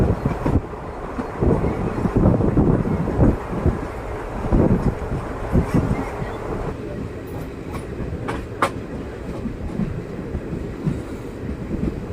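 A Rameswaram passenger train runs along a single-track line from Madurai with a heavy rumbling roll and rhythmic wheel clatter, plus wind buffeting close by and a few sharp metallic squeals near the end.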